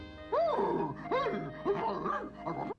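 A dog barks and yelps in several short, tonal bursts with rising-falling pitch, fairly close and alone.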